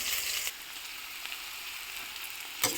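Onion frying in hot oil after green chillies for vegetable fried rice, a steady soft sizzle with a brief bump near the start and a sharper crackle near the end, no voices.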